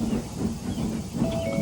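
A steam locomotive vents steam with a steady, broad hiss, fairly loud and close, lasting under two seconds with a faint whistle-like tone near the end and no voices.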